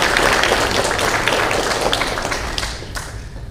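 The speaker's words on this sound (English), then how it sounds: "Let's give them a round of applause." An audience applauds at a school graduation ceremony, with dense, sustained clapping that gradually thins out over a few seconds.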